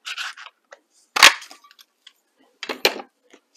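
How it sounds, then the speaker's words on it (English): A Stampin' Up! Label Me Fancy paper punch cutting a tab from craft paper, heard as two sharp, close snapping crunches about a second and a half apart, with light paper rustling around them. "That's where I use the Label Me Fancy punch. So I'm just going to cut one of those."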